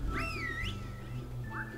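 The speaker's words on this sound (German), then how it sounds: "Na, wen pfeift er denn da?" A character in the video game Rayman whistles a short, rising and falling tune, then adds a brief second whistle after a pause, clear and close over a low background.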